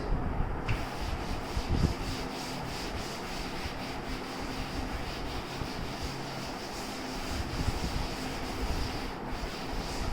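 A board being wiped clean of written wave equations in a classroom lesson, a steady close rubbing and scuffing that runs unbroken for about ten seconds with no voice over it.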